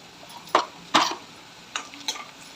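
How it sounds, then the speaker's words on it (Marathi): A spoon stirs salt and turmeric into onions in a pan for kande pohe, giving four short scraping knocks against the metal over a faint background sizzle. "छान प्रकारे मिक्स करून घेऊया"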